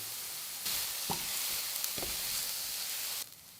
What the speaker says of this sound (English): Mix and cook until the onions turn soft and translucent